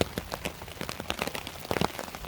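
Rain falls on a camping tarp at a dispersed campsite in Michigan, a close, steady patter of drops with scattered sharper taps and no talking.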